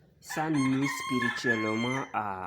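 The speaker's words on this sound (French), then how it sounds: "les coqs qui chantent là, qui veut me déranger comme ça là." A rooster crows loudly and close by in a long, drawn-out call that carries across a few seconds, overlapping with someone speaking in French.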